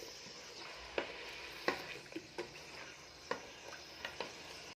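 Spoon stirring meat and celery in a pot with a soft sizzle, a series of separate scraping clacks at irregular intervals, close and fairly quiet with no talking.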